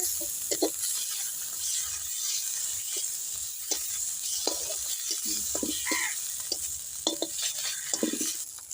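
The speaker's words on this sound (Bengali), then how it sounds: "হলুদ গুঁড়া দিলাম, এবার একটু নেড়ে নিতে হবে।" Koi fish fry in oil with turmeric powder added, softly sizzling while a spatula scrapes and stirs in scattered taps and strokes, with no voices.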